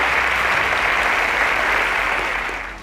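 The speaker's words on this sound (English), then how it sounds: "A round of applause for Chinelolum's teacher." A studio audience at a televised school quiz semi-final claps for a contestant's teacher, a dense, even wash of applause that holds steady and then begins to fade near the end.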